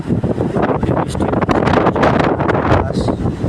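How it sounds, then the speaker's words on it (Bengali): Strong gusts buffet a phone microphone outdoors under an overcast, rainy-looking sky, giving a loud, continuous roaring rumble with rough surges throughout. "মনে হয় বাতাসে মোবাইলটা নিয়ে যাবে।"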